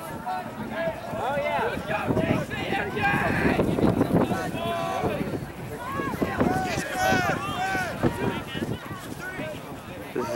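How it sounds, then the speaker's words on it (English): Strong wind gusts across an outdoor ultimate frisbee field during a college championship tournament game, a steady rough buffeting roar on the microphone that runs underneath people talking throughout. "There's like a constant wind up down and then the crosswind."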